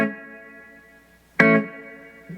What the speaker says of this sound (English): Quite a bit of reverb.